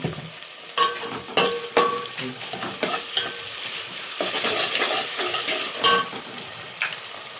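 Ginger sizzles in a hot pan as it is stirred, with steady crackling frying noise and repeated sharp scraping and clinking of a spoon, close up and without talk.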